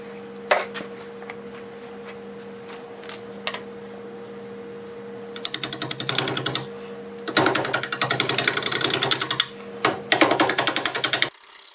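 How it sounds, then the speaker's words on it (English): Cherry wood bowl being shaped on a lathe turning at about 650 RPM with a 5/8 bowl gouge: a constant motor hum with faint ticks, then several rapid, rattling cutting bursts with brief gaps between them. "I've got a 5/8 bowl gouge, and I'm getting about 650 RPMs."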